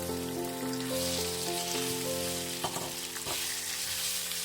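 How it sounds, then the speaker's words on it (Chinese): Chicken pieces stir-fry over medium heat in a pan with oil, Sichuan peppercorns and ginger: a loud, continuous frying sizzle with a few sharp spatula scrapes near the end, over quiet background music. "中火煸炒至鸡肉上色"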